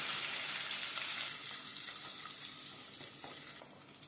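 Fenugreek, mustard seeds and curry leaves fry in sesame oil, giving a steady bright sizzle and crackle up close that eases slightly and drops near the end.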